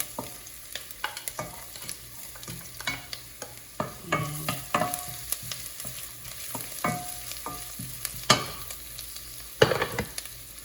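Ginger and onion fry in a pan for mussel soup, a close crackling sizzle with irregular scraping and knocking of a utensil stirring through, no voices.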